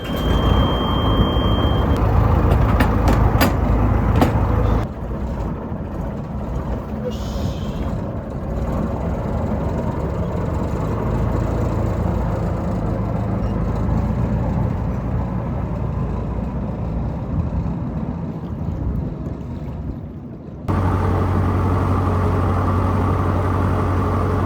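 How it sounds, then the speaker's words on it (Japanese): A vehicle engine rumbling steadily at idle, low and continuous, with a brief shift in tone partway through before resuming its steady drone. "じゃあエンジンかけて"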